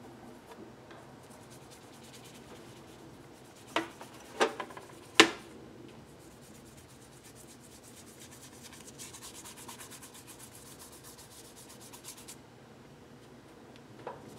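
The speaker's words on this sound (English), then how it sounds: "we can really see how it feels to write on a painted page." Pen writing on Tomoe River paper that has been painted with watercolor, heard as a soft, steady scratching and rubbing, close and quiet, with a few sharper taps early on and no talking.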